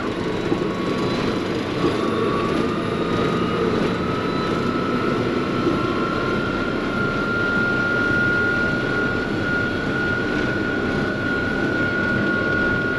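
A farm tractor's engine labors steadily while climbing a hill in 16th gear, a continuous loud drone with a whining tone running the whole time and no talk.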